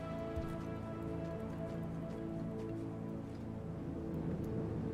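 Steady rain falls in the video game Rain World, a constant even hiss with scattered droplet patter, alone and with no voices, under a low droning ambient tone.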